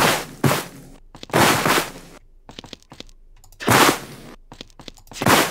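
Grass being cut in an Unreal Engine 4 game: a repeated crunchy swishing effect, with four loud bursts spaced about a second or more apart and lighter rustling ticks between them, heard without speech.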